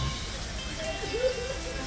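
A rainstorm in Papeete, Tahiti produces a steady, even hiss of falling rain, continuous and fairly loud, with a faint voice-like trace partway through.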